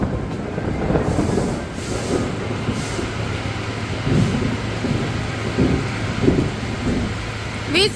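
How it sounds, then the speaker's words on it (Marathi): Heavy rain falls steadily in a Konkan village while thunder rumbles low and continuously, with swelling rolls building to a few louder surges, all in a dense wash of sound with no clear talking. "एवढा जोराचा पाऊस पडतोय आणि आभाळ पण गडगडतोय."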